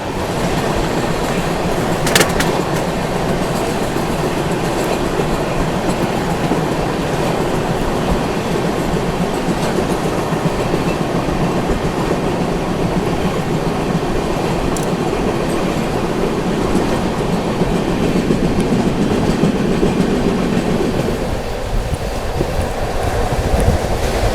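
Tamil Nadu Express train, New Delhi to Chennai, running on rails during the monsoon, a loud continuous rumble with rail noise and faint clickety-clack, steady throughout without speech.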